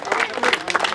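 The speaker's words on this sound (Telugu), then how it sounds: "ఒకసారి అందరు చప్పట్లు కొట్టాలి గట్టిగా వీరేంద్రకి." A crowd applauding a repeat winner named Veerendra at a village Vinayaka immersion celebration, a dense burst of loud, close clapping with voices mixed in, about one second long.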